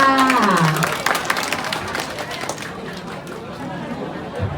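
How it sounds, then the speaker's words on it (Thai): Guests at a Thai wedding in Nonthaburi break into applause and cheering after a brief voice at the start, the clapping strongest early and then thinning to a lighter patter mixed with chatter. "ขอเสียงปรบมือดังด้วยค่ะ"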